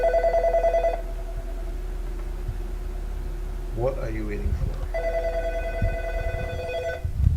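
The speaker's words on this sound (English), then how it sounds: "Phone is ringing." A telephone rings in two bursts of bright, buzzy trilling, one at the start and one near the end, with a voice talking in between during a health call-in broadcast.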